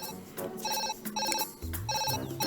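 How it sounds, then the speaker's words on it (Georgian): A cartoon telephone rings in rapid repeated electronic bursts, loud and continuous, with playful background music and sound effects mixed underneath. "ტრაკი რეკავს."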